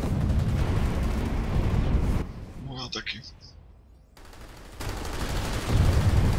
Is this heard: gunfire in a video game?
yes